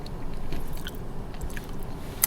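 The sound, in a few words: biting into a crispy, chewy macaron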